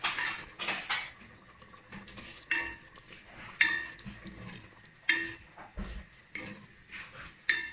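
A spoon scrapes and clanks around a cooking pot as tomato sauce for jollof rice is stirred, a close series of irregular metallic knocks and scrapes with quiet gaps between them.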